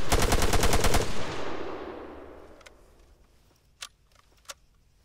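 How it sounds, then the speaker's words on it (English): Rapid automatic gunfire from enemy soldiers in the ARMA 3 video game, a loud dense burst for about a second that trails off into reverberant decay, followed by two isolated sharp distant shots. "Enemy fire!"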